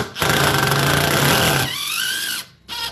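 A power driver whirs loudly as it sinks a drywall screw, a dense buzzing burst for over a second that eases into a lighter spinning whine, stops, then starts again briefly.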